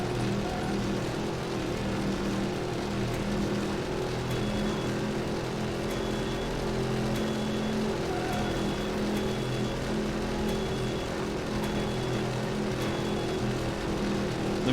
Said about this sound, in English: I know the car noise is loud as hell